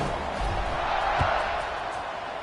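Football stadium crowd at a college game as the teams line up for a kickoff, a broad, steady roar of cheering that swells slightly midway and stays continuous.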